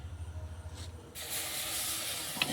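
Ground tomato poured into hot fried masala for a hamour fish curry, a sudden loud sustained sizzle that bursts in after a quieter start and keeps hissing steadily, no talk.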